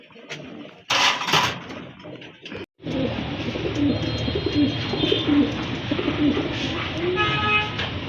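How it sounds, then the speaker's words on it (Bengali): A pair of Lahori pigeons cooing in a loft, soft repeated low coos through a busy background with a brief loud noise near the start, a short dropout, and a faint distant horn. "এটা হচ্ছে খুবই সুন্দর কোয়ালিটি ফুল এক জোড়া লাহরি কবুতর"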